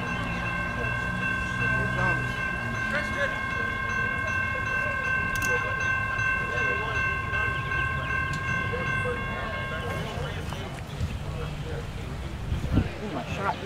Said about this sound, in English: CSX Q453 coming by Folkston